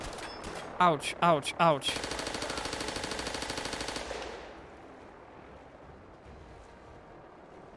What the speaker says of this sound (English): I need to figure out what gun is making that sound.